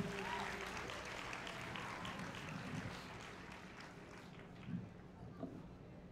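Audience applause at a stage hypnosis show, fairly faint and steady, heard at a distance with a few murmuring voices mixed in.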